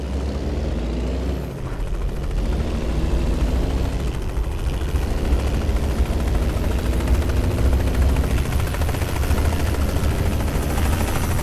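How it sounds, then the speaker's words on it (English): A helicopter in the trucking game American Truck Simulator thunders past with a loud, steady rotor chop and low engine rumble that holds strongly for the full length. "And that helicopter sounded cool."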